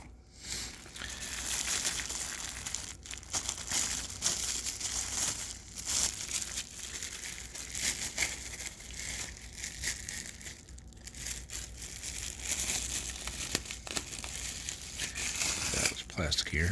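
Plastic packaging crinkles steadily as it is unwrapped from a Battlbox survival kit item, a continuous close rustle under someone talking throughout.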